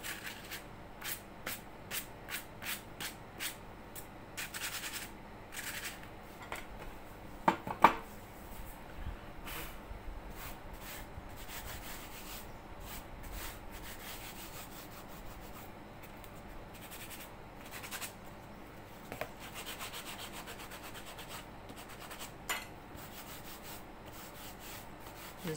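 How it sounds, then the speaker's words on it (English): A hand rubs slowly back and forth over a smooth wooden journal cover, producing soft, faint swishing strokes in irregular bursts at close range, with occasional light taps and no talking. "Just rubbing my hand over it to feel the smoothness"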